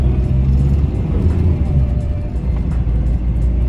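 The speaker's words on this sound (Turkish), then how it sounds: "gördüğünüz gibi araba kayıyor ve çok zor çıkıyor" A car engine labours up a slippery snowy road toward Abant, giving a steady low rumbling drone with a faint whir, close and continuous.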